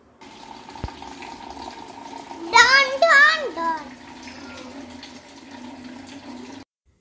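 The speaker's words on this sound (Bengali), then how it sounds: "তো চলো সেই সুযোগে আমি জলটাও ভরে নিই" Water runs steadily from a tap into containers indoors for about six seconds before cutting off, with a voice rising briefly over it.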